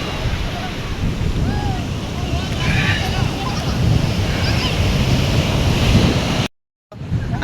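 Sea waves roll onto a shore at sunset in a continuous broadband wash with wind buffeting the microphone and faint voices in the background, then cut out briefly near the end.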